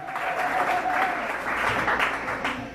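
A church congregation at a French-language service applauds and cheers, a dense steady wash of clapping lasting about three seconds, with a sustained voice or tone running faintly underneath.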